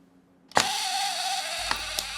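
A vintage camera like the one in the 1954 film Rear Window fires its shutter at a one-second speed: a sharp opening click, a sustained mechanical whir, then closing clicks, loud and close.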